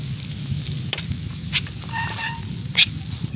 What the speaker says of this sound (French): je mets ma sauce